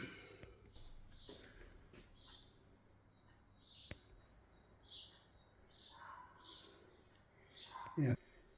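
Faint spring bird chirps and short tweets scattered over a soft background hiss, fairly distant, with a brief loud knock near the end.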